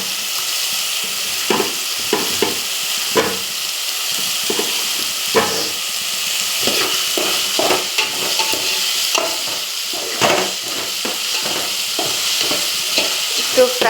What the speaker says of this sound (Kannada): ಸ್ವಲ್ಪ ಫ್ರೈ ಮಾಡಿಕೊಂಡು ವೆಜಿಟೇಬಲ್ಸ್ ಆ್ಯಡ್ ಮಾಡಾದಮೇಲೆ